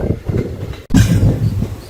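The Karaikal SMVT Bengaluru Express, train 16530 near Salem, crossing the Thirumanimuthar river bridge: a loud, close, continuous low rumble of wheels and carriage, with a brief dropout and then a louder, heavier rolling roar.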